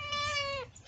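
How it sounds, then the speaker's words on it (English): A cat gives a single clear, drawn-out meow close to the microphone, loud and tonal, then falls quiet. "Here is my cat, Junabelle, and she is looking scared right"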